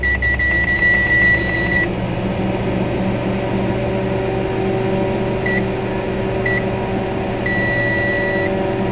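A microwave oven runs empty with a steady loud hum, sounding short high beeps near the start, then a few scattered single beeps and another run of beeps near the end.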